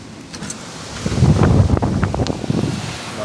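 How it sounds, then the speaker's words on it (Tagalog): Strong typhoon wind roars and gusts outdoors, swelling to a loud peak mid-clip before easing slightly, a broad turbulent rush buffeting the microphone with no voices. "Grabe, lakas na ng hangin."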